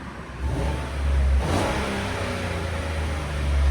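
A 2015 GMC Sierra SLT's 5.3L V8 with Borla Touring exhaust revs in a smooth, deep swell that rises and eases while a low rumble holds underneath.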